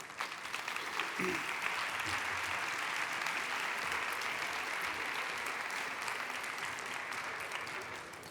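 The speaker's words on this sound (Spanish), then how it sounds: "Un fuerte aplauso para ellos" Sustained audience applause fills a hall at a cancer patients and families congress in Aragón, steady and broad clapping from a large crowd that holds evenly before tapering slightly at the end.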